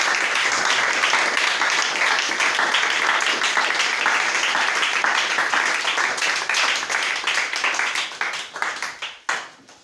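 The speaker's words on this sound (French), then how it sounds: "Acclamons pour le Seigneur." A church congregation claps and applauds together, dense and sustained at full strength before thinning into scattered claps and fading out at the end.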